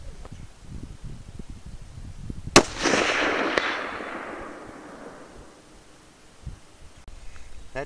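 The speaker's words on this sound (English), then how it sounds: "Gonna be shooting a 180, 150 grain, full metal jacket." A single .30-06 rifle shot with 150 grain full metal jacket ammunition fired at a 260-yard target, one sharp loud crack followed by a long rolling echo that fades over several seconds outdoors.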